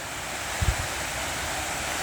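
Water rushing through the spillways of Sturgis Dam makes a steady, faint, distant rushing hiss, broken by a single brief low thump.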